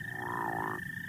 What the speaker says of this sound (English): So here's the call of the crawfish frog.